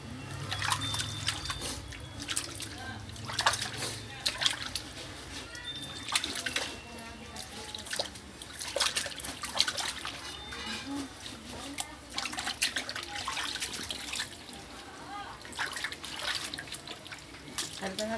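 Tap water trickles and splashes into a small basin while a pet hamster is bathed. The running water is close and intermittent, with drips and splatters, and people talk softly over it.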